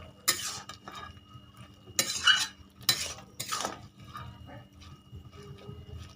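White eggplant being stirred in a cooking pot, with a few distinct scraping and clattering strokes of a utensil against the pot between quieter pauses.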